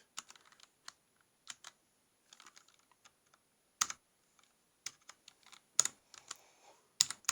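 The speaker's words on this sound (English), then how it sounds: "I'm typing slowly with one hand." Slow, uneven one-handed typing on a computer keyboard at night, with sparse individual key clicks and short bursts separated by pauses, close and quiet.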